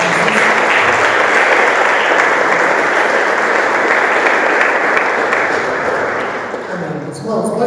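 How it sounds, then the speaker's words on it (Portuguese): A church congregation at a Brazilian evangelical service applauds loudly and steadily for several seconds, dense clapping filling the room before tapering off near the end. "Você pode aplaudir o Senhor bem forte?"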